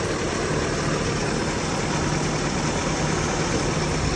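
A carbureted 22R engine in a Toyota pickup idles just after starting: a steady, unbroken rumbling hum that holds level throughout with no voices.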